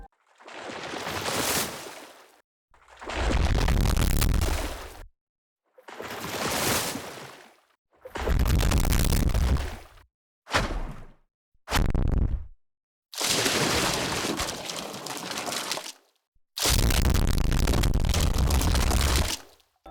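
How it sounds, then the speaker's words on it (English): A lightning spell effect made from water whooshes pushed through heavy distortion with sub synth: eight roaring, crackling bursts of varied length with deep booming low end, separated by short gaps. "The other technique is taking these water whooshes and sending them through loads of distortion with subsynth to add a"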